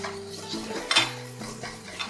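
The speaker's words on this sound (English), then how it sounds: "And you need to whisk really fast." Egg whites whisked rapidly by hand in a bowl for turrón de Jijona, quick metallic clinks and scraping against the bowl, with a few louder taps.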